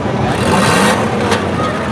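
A front-wheel-drive demolition derby car engine roars loud and close at a summer derby, a continuous heavy rumble with a surge of revving, while an announcer's voice runs underneath.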